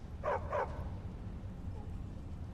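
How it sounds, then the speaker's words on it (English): Two quick dog barks in a Skyrim video game setting, close and fairly loud, followed by a low ambient hum and no further barking. "Don't mind the dogs. They get anxious when they haven't had dinner."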